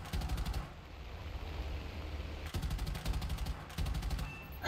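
A tank gunner's machine gun firing in the video game War Thunder, with three long rapid bursts of automatic fire separated by short pauses, over a low engine rumble.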